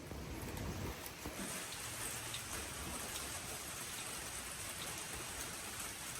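Steady rain falls on a street in Tbilisi, Georgia, a dense even hiss of drops hitting the surface that continues unbroken and fairly close throughout, with no voices.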